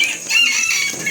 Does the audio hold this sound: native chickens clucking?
yes